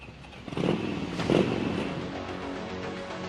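A motorcycle engine rumbles nearby, rising in two short revving bursts before settling into a steady idle.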